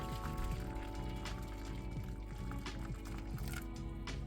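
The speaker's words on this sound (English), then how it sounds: "Get our freshly off the boil water." Freshly boiled water pours steadily into a foil-wrapped cheesecake tin, a continuous liquid gush with faint background hum throughout.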